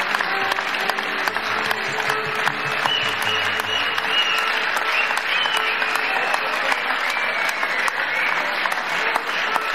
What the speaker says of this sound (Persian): با کف زدن‌های ممتد دو هنرمند را تشویق نمودند